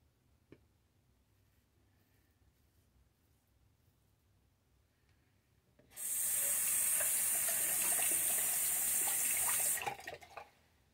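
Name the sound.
running tap water wetting a safety razor blade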